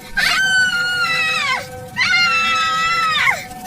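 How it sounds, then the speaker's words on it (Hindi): A witch shrieks twice while burning to ashes, two long, high, wavering screams about a second and a half each with a short gap between them, loud and close over faint background noise. "वो चुड़ैल चिल्लाती हुई भस्म हो जाती है"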